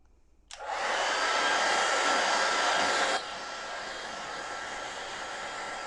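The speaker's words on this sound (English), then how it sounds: "Sorry about the hairdryer." A hair dryer switches on abruptly and blows with a loud, steady whoosh, then drops to a quieter setting and keeps running alone.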